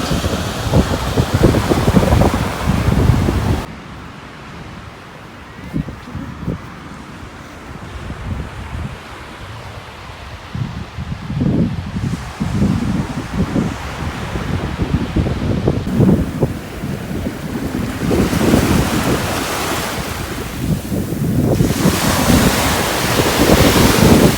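Strong wind buffets the microphone on an Orkney Islands beach, with waves and surf rolling in beneath, loud and continuous with surges and lulls.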